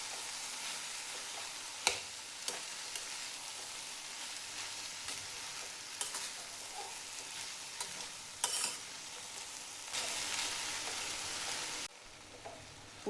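Moth beans dry-roast in a pan with a steady hiss and frequent light scraping and clicking as they are stirred. The sounds are close and moderately quiet, with no voices.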